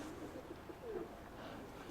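Domestic pigeons, including an old hen, coo softly outdoors near a loft: a few faint, low coos over light background noise.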